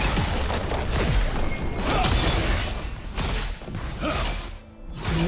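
A turret collapsing in League of Legends, a heavy mechanical crash and grinding boom with clanking debris over loud game background, swelling and then fading near the end.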